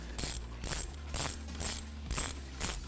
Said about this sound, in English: On the other side, I'm going to use an extension to make it a little bit easier. Same 10mm socket to get it pulled off.